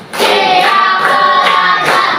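Sixth-grade pupils in a classroom clapping in unison on a teacher's count; several loud, evenly spaced bursts of group claps, near and dense.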